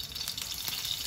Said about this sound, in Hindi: इसमें हम 1 चम्मच देसी घी डालेंगे